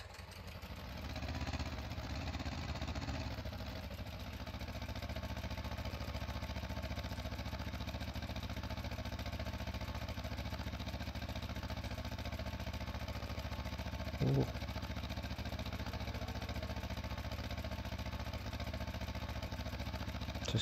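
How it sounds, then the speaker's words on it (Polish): A Polish 30-series tractor labours uphill while hauling manure, its engine a steady, strained drone held close and loud throughout, with one brief knock partway through. "Coś sobie nie radzi bardzo ten nasz ciągnik 30."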